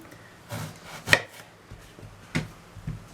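A knife trims the top and end off an eggplant on a cutting board: four separate dull chops spread out over a few seconds, close and fairly crisp, with no talk.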